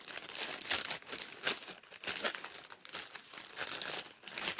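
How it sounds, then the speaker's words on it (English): A small plastic bag crinkles and rustles as an item is packed back into it. The sound comes in loud, close, irregular bursts of crackling with no speech. "So I guess I'll just package it back up, put it back in a little plastic bag"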